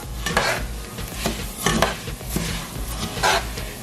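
Rice being stirred and browned in a pan with a utensil, with repeated scraping strokes over a steady low sizzle, close and fairly loud, with no talking.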